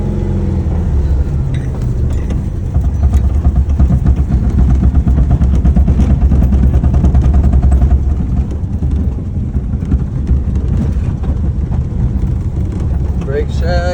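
A 1970 VW Bug driving around the block, heard from inside as a loud, steady low engine rumble with rattles, and faint voices beneath the noise.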